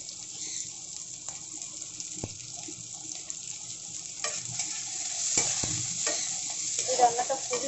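Onions fry and sizzle in a pan for a chicken vegetable stew, a steady crackling hiss broken by spoon scrapes and stirring knocks that grow busier toward the end, no voices.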